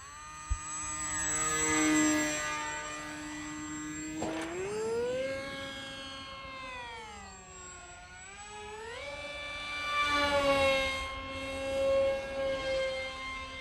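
A HobbyZone AeroScout 1.1m RC airplane flies close by, its electric motor whining steadily and sliding up and down in pitch as the throttle and distance change, with no voices.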